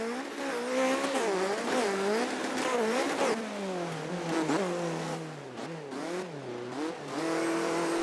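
Video game cars race in a Need for Speed Most Wanted police pursuit, engines wailing up and down through repeated revs while tires squeal in wavering bursts, the whole mix moderately loud with no voices.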